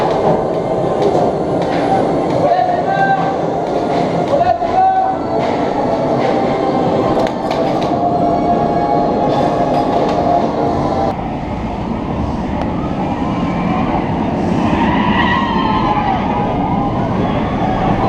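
Osiris roller coaster trains run at Parc Astérix, a steady loud rolling roar and rumble of track noise that continues throughout, with shifting metallic tones and faint crowd sound in the background.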